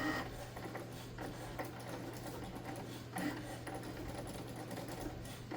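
A Cricut Maker 3 cutting machine runs its first cut, giving a steady, fairly quiet mechanical whir with a continuous low hum and faint rhythmic ticking that holds evenly throughout, with no voices.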